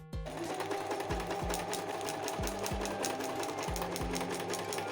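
A sewing machine hemming a cut sock into a doll dress, running steadily close up with a fast mechanical whir and a regular rhythmic thump from the needle, no talking.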